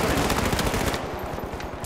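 Rapid bursts of automatic gunfire from a video game, dense and loud at first, then thinning into distinct rhythmic shots.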